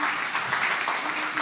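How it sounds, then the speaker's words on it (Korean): A crowd at a university student startup forum applauds; a brief, continuous wash of many hands clapping at a fairly loud, even level. "큰 박수 부탁드립니다."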